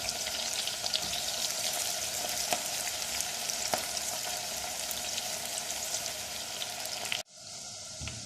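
Onions sautéing in a pan for a beef haleem, a dense continuous sizzle with occasional faint stirring clicks, steady and close, ending abruptly in a quieter hiss near the end, no speech.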